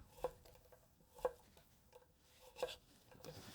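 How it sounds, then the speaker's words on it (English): Push cuts through potatoes with a nakiri, a boxy small cleaver-style kitchen knife, giving three distinct knocks of the blade on a cutting board, spaced about a second apart, quiet and close with no talking. "I'm going to show you the same thing with a nakiri, which is this boxy small cleaver-esque type of knife"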